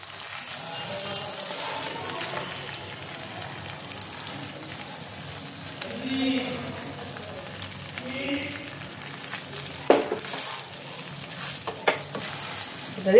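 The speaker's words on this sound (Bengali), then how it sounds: "এবার আমি রাইসটা দিয়ে দেবো। ভালো করে আমি মেশাবো।" Cooked rice being stirred and tossed in a hot pan with boiled chicken, chilli and garlic, a continuous soft sizzle with scraping spatula strokes and occasional sharper clinks, close and steady, with no voices.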